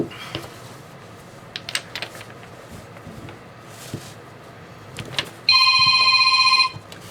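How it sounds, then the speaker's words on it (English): Indoors, a telephone bell rings in one sustained electronic trill near the end, loud and close, after quiet room noise with small clinks of art supplies. "The phone is ringing."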